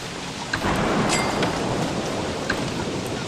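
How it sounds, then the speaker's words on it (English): Steady, heavy video game rain pours throughout in Don't Starve, with a low rumble of thunder swelling in the background; no voices are heard. "Stupid rain is annoying."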